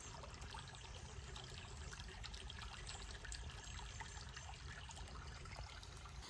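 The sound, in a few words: small waterfall on a limestone river tributary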